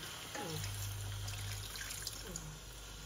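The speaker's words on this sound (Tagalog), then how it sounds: "Nalagay na ako ng konting tubig." Water pours steadily into a pot close by while cooking chicken wings adobo, a continuous splashing trickle over a low background hum.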